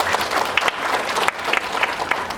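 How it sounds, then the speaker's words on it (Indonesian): Audience applause at a community gathering on household waste management, a steady wash of many hands clapping close and loud, holding evenly for the whole stretch with no voices over it. "Tepuk tangan buat semua."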